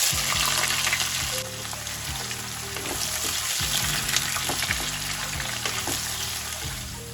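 Four chopped onions sizzling in hot oil with bay leaves and spices in a pan while cooking Kashmiri chicken masala, a loud continuous crackle with rhythmic scraping from stirring.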